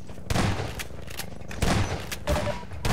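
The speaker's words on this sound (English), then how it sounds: "I shot him." Gunfire in a video game comes as several loud, sharp shots in quick, uneven bursts, each with a short booming tail, close and dominant throughout.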